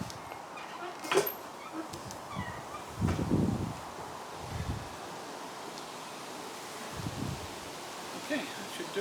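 Outdoor wind gusts buffet the microphone with low rumbling bursts and rustling, coming and going irregularly over a constant airy background, with no speech.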